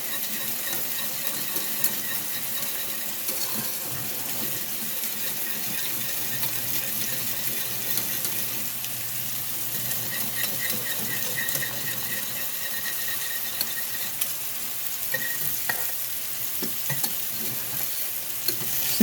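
Gravy is stirred in a pan as it cooks and thickens, giving a steady sizzling, bubbling hiss with soft scraping from the stirring that carries on without a break and without talk.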